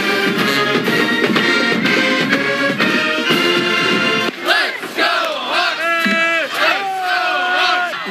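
Kentucky and Iowa Hawkeyes football fans at the Music City Bowl roar and chant together in a loud, dense crowd, with rhythmic shouts and cheering filling the whole stretch.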